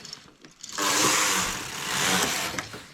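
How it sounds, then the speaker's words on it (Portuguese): A domestic knitting machine runs its carriage across yarn, a loud close mechanical whirring and rattling sweep lasting about two seconds after a quiet start. "Coloco o fio na máquina e teço"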